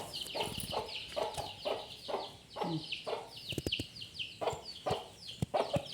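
Chickens clucking close by in a repeated, rhythmic series of short calls, with a few sharp clicks and scuffs mixed in.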